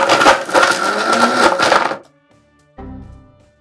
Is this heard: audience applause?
no